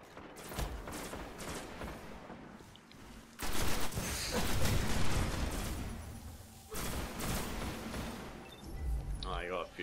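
Rapid gunfire from a Destiny Crucible match, including a fusion rifle, in loud sustained bursts with short pauses over game effects, while a player talks over it.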